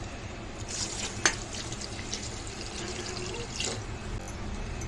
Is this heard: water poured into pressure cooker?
yes